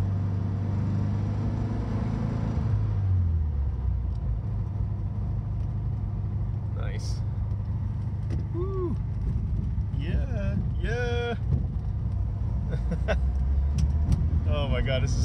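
A 1967 right-hand-drive Euro-spec VW Beetle 1500 is driving, its air-cooled engine giving a steady low rumble throughout. Near the start the pitch drops, as at a shift, and people talk inside the car over the engine.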